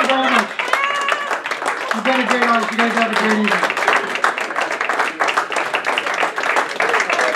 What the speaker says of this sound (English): Another nice round of applause for our birthday boy, Mr. Steve